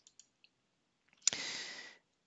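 A single crisp mouse click on a computer, loud and close, followed by a brief hiss of noise, with a few faint soft ticks before it in an otherwise quiet room.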